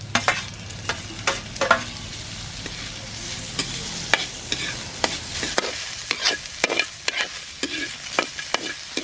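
Onion and beef frying in a pan, a steady close sizzle with frequent scraping stirs and utensil taps against the pan throughout.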